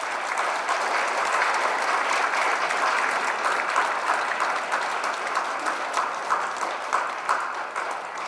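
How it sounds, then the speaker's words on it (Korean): Audience at a parish book concert in a Catholic church hall gives sustained, even applause as the new officers are welcomed forward, a dense steady clapping that holds for the whole stretch with faint murmurs. "큰 박수로 맞이해 주시기 바랍니다"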